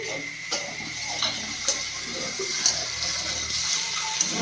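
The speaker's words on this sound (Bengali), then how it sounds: "ঢেঁড়স আলুর তরকারিটা কষিয়ে নিয়েছি, এবার জল দিয়ে দিচ্ছি।" Water splashes and trickles steadily into a pot of okra and potato curry in a home kitchen, with a constant hiss and a few soft clinks of utensils on the pot throughout.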